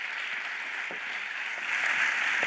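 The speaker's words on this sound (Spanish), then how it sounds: "Un aplauso para María del Mar" An audience applauds for María del Mar Sánchez, a university lecturer introduced at an EdTech congress in Barcelona. The dense, steady clapping fills the room and swells louder toward the end, with no voices over it.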